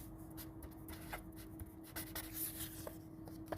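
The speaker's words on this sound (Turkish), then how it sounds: "O kağıda onun ismini yazıyorsun." A name being written on a small piece of paper, heard as faint, close scratchy pen strokes in short bursts against a quiet room hum.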